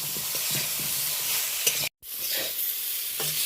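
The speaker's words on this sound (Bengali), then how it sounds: "বেশ কয়েক সেকেন্ড এইভাবে উল্টে পাল্টে বেগুনটাকে একটু ভালো করে ভেজে নেব।" Brinjal (eggplant) frying in leftover oil in a wok after fish, with a steady sizzle and scattered stirring scrapes as the pieces are turned, broken by a brief silent gap.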